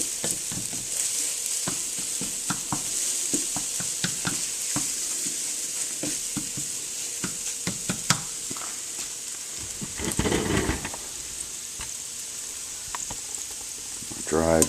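Pheasantback mushrooms fry in a pan with a steady bright sizzle, broken by occasional stirring scrapes and taps and a louder bubbling surge partway through, with only brief faint talk.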